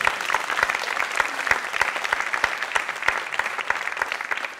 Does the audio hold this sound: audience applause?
yes